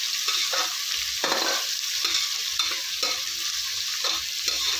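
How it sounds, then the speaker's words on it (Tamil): Onions sautéing in a pan for chicken biryani, a steady close sizzle broken by repeated scraping strokes of a spoon stirring at a regular rhythm, with no talk. "இந்த அளவுக்கு வெங்காயம் வதக்கிக்கணும்"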